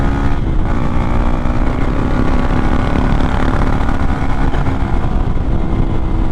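Motorcycle exhaust running with the dB killer removed, a loud, dense, continuous engine roar held steady and close throughout with no talking.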